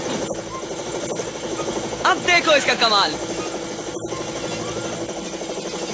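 A cartoon helicopter helmet whirs with a steady mechanical hum under the whole scene, while a voice speaks briefly over it in the middle.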